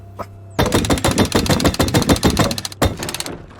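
Rapid automatic gunfire from the video game Rust, a dense, loud burst of close shots lasting a few seconds with a brief pause and a few trailing single shots.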